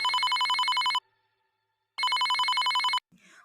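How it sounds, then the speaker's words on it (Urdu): A mobile phone rings in a pocket with two loud, close electronic ring bursts, each about a second long and separated by a second of silence. "لیکن ریسٹورنٹ میں داخل ہونے سے پہلے ہی اس کی جیب میں رکھی موبائل کی گھنٹی بجنے لگی"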